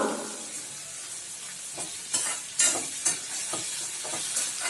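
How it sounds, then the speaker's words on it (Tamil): Onions sautéing in a pan for kurma, a steady close sizzle and crackle with a few louder scraping stirs partway through, no voices. "வெங்காயத்தை நல்லா வதக்கின உடனே அதுலேயே தக்காளியும் போட்டு வதக்கணுங்க"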